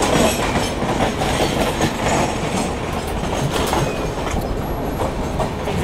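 A Humsafar Express rolls along the rails with a continuous loud rumble and rhythmic clatter as it overtakes the Pataliputra Express, heard up close from on board.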